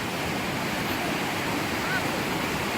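Steady broadband rush of Blakiston Creek flowing near a trail bridge, a constant close wash of water with faint wind and no distinct events.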